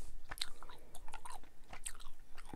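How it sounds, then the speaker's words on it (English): Bubble Dozer truck-shaped bubble gum being chewed close up, soft wet smacks and crunchy bites scattered irregularly through a quiet background with no talking. "This whole thing feels like I'm chewing maybe"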